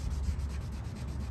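Sandpaper of 600 and 800 grit rubbing across a car's clear coat, a continuous close, dense scraping hiss with quick rhythmic strokes.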